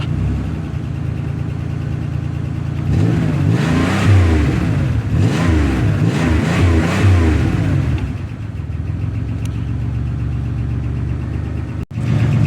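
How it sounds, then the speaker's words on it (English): An old car engine with a large hole in the muffler idles loudly, then revs in several rising and falling pulls before settling back to a rough, raspy idle, close to the microphone with no talking. "Aside from the massive hole in the muffler back there,"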